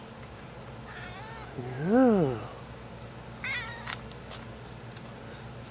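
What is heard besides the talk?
cat meowing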